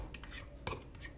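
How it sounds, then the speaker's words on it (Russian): Homemade hot mustard being stirred and kneaded in a bowl, giving soft intermittent scraping and clinking strokes, faint and close, with a brighter tap near the end. "Вот горчицу я вымешала."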